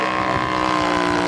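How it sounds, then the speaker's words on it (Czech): A four-stroke 50 cc V-twin engine on a 1:3.8 scale Fokker D.VII model aircraft runs steadily and loudly, a continuous buzzing drone with no breaks. "Ten motor je 4dobý, což pokud se trošku zajímáte o techniku, tak se určitě poznali podle zvuku."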